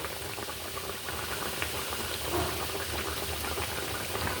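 Fish curry gravy with tilapia, radish, eggplant and potato boils in a pot, giving a steady close bubbling and popping that stays even throughout with no voices.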